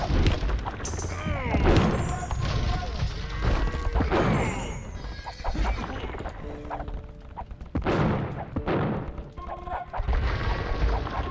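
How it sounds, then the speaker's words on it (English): Bombard cannons fire in Age of Empires II battle, with repeated booming blasts and crashing impacts scattered through a busy mix of clattering combat sounds. "And these bombard cannons are a direct counter to Elite Skirmisher."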